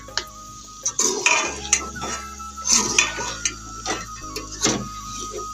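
Chana dal and chicken stirred in a metal pot, with irregular clanks and scrapes of a spoon against the metal, close and fairly loud, accompanied by a low background hum.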